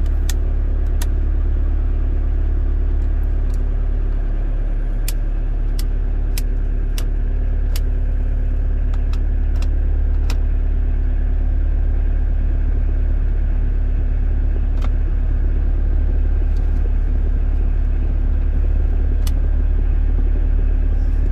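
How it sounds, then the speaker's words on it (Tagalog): A Mitsubishi Pajero engine idles steadily with the air conditioning on in Econo mode, giving a continuous low rumble, with a few faint clicks over the top and no talking. "Econo, more engine noise because it's already on the Econo and AC mode."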